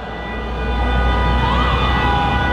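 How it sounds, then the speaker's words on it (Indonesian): An ambulance siren wails steadily at a distance, its tone sweeping slightly over a constant background hum. "Setiap hari kita mendengarkan suara ambulan ya."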